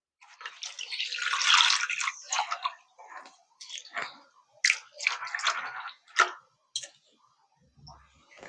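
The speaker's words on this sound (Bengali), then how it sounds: "এবার এই সাবুদানাটা 2-3 বারের মতন জল পাল্টে ধুয়ে নিতে হবে।" Sago pearls are swished and rinsed in a bowl of water, giving close wet sloshing and squishing sounds in irregular bursts with short quiet gaps between them. No one talks.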